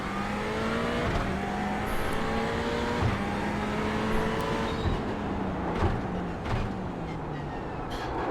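A race car engine in a racing simulator game drones loudly and continuously, pitch rising and falling through gear changes, with no talk over it.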